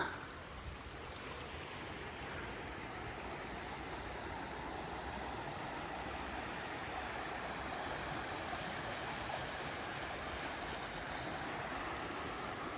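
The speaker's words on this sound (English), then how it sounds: "just the sound of the river" A steady, broadband rush of the River Derwent near Hathersage in the Peak District continues unbroken throughout, fairly soft and even, with no voices or other distinct sounds.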